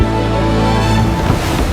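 Ocean waves surge and break in a steady, loud wash of surf with wind noise, the roar continuous throughout and no voices present.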